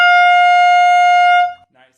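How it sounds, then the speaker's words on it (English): Saxophone sounding a high palm key D with the octave key, one steady sustained bright tone held loud and close for about a second and a half before cutting off. "I'm using my palm to press that D key down"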